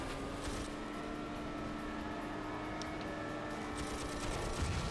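Machine gun fire in 007 Nightfire, a continuous rattle of rapid shots sitting fairly faint under vehicle engine noise throughout.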